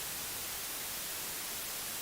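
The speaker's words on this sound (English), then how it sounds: "so you can see how it generates white noise there" Broadband white noise generated in an audio editor, a steady, loud, even hiss of static filling the whole stretch with no other sound on top.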